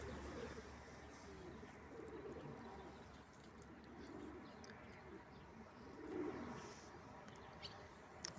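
Pigeons cooing softly at a backyard coop, low repeated coos rising and falling at moderate distance over faint outdoor background noise.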